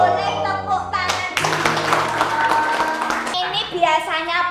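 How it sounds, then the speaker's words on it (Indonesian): Applause for a guest lecturer at a development class session, a short burst of clapping from a room audience lasting about two seconds, set between stretches of speech. "Boleh tepuk tangan."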